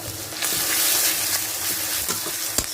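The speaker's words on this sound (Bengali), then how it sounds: "এবারে 1 চামচ মতো রসুন বাটা দিয়ে দেবো।" Garlic paste sizzles loudly and steadily in a hot pan up close, with a faint scrape near the end and no talk.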